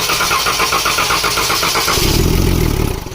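A 2014 Dodge Durango with a 3.6L engine and a cylinder 4 misfire cranks rhythmically for about two seconds, then catches and settles into a loud, close idle with no talking.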